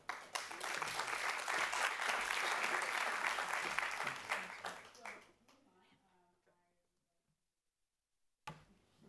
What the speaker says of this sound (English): please welcome Will with a round of applause